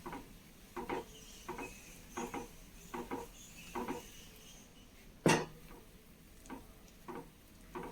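Carrot and dates cake batter stirred in one direction in a bowl, soft repeated scrapes and taps of the spoon against the bowl at an irregular rhythm, with one sharper clink midway, quiet and close.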